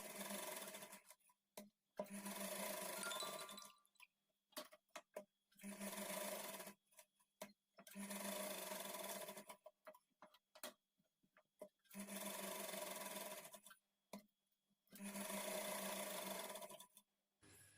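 A sewing machine stitches a lined blouse in six long bursts of steady whirring, each about two seconds, separated by short pauses filled with faint clicks and handling noise.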